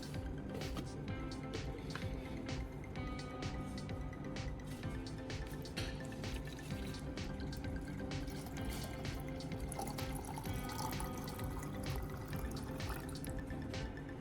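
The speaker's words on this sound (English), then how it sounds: "I grab a clear glass jar and fill it with water." Tap water fills a clear glass jar with a steady, continuous splashing and trickling rush that stays at an even level throughout.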